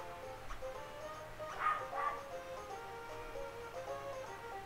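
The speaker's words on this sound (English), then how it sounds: "That dog is very loud." A dog barks a couple of times in the background, somewhat muffled beneath steady game music and room noise, with no talking.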